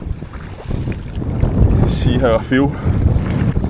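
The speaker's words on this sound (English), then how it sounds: "that should hopefully shelter me from this wind and these waves" On Loch Lomond, wind buffets a kayak as waves slap and splash around the hull, loud and close throughout, while someone speaks briefly and calls out partway through.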